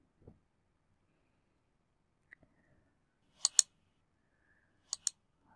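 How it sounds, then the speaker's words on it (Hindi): Sharp mouse clicks on a website button, coming as a faint single tap and then two quick double clicks in a quiet room, with no talking. "उसके बाद यहाँ पे आपने क्लिक कर देना है एरो पे"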